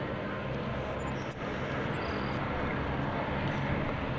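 Engines and propellers of a P-3C Orion turboprop backing up during an airshow demonstration, a steady broadband roar that holds loud and unbroken throughout.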